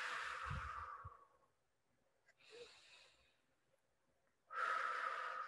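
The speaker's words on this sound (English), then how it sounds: "we're going to breathe out through pursed lips as your belly button is going to move in towards the spine" Breath pushed out through pursed lips, three soft hissing exhalations with quiet gaps, the last one louder and steady, heard close and alone.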